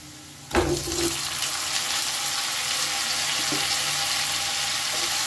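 Boiled meat dropped into a pan of fried onions sets off a sudden loud sizzle that settles into a steady, close frying hiss with faint clinks.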